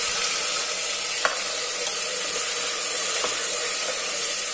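Ground onion paste and ginger-garlic paste fry with curry leaves and bay leaf in hot oil, giving a steady loud sizzle throughout with a few faint clinks of stirring.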